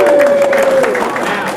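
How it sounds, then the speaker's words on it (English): Audience applause at a Strat-o-matic Baseball Opening Day 2023 event, a steady wash of clapping that holds fairly loud for the whole moment, with a host's sustained voice tone fading beneath it early on. "Give me a little applause."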